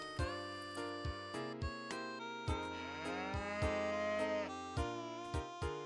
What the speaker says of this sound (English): Okay, moo sound.